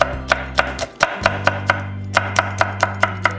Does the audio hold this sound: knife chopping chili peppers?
yes